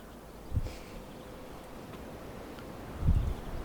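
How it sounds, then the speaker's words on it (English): Gusty wind buffeting a microphone in low rumbling bursts, with a soft steady rush of air and faint rustling between gusts, no voices. "it's very windy here, as you can hear"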